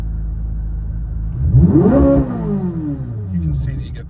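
A 2023 Chevrolet Corvette Z06 convertible engine revs up sharply with both paddles pulled, climbing for about half a second and then settling back, fairly loud and close, while someone talks over it.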